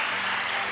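A church congregation applauds during a morning worship service, a short burst of dense, loud clapping from many hands.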